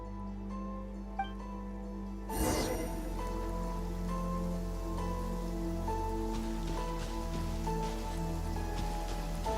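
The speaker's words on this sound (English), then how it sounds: "It's raining again?" Rain in a video game story quest suddenly starts about two seconds in and keeps falling as a dense, steady patter on surfaces, loud and close for the rest of the stretch.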